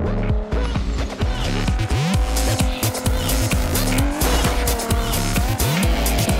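Race car in the Onrush video game, its engine loud and close, surging through repeated rising revs and gear changes, with sharp tire squeals cutting in throughout.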